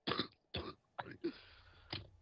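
Someone coughs and clears their throat in a few short, harsh bursts separated by pauses, fairly faint and slightly distant, with no speech over them.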